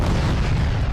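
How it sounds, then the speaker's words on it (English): A 125mm main cannon on the Angara tank in Arma III fires, giving a heavy low boom that fills the whole second as one sustained, dense blast with no voices. "The Angara's primary weapon is a new 125mm cannon"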